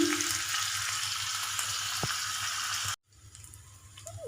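Soaked dry dates sizzle in hot ghee in a pan, a close, steady frying hiss that cuts off abruptly near the end before a faint clatter returns.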